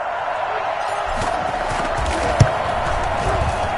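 A stadium crowd in the American football game Madden 21 roars for a big play between the Packers and Saints, a steady wash of cheering with one brief thud partway through.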